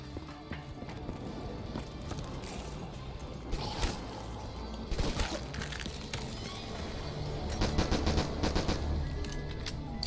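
Rapid machine gun fire rattles in a zombie-survival first-person shooter, bursts of close, loud automatic shots layered over game effects and a busy soundtrack, growing denser toward the end.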